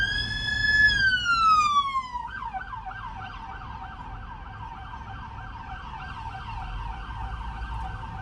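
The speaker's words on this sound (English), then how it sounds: "They don't stop for sirens." An emergency vehicle siren wails loudly, sliding down in pitch, then switches to a rapid repeating yelp that continues steadily, with traffic rumbling underneath.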